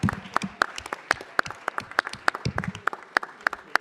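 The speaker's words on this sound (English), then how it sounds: "yes, a big round of applause." Applause in a city council chamber honouring Council President Emeritus Paul Krikorian: a room of people clapping steadily, with sharp individual claps standing out above a dense, fairly loud patter.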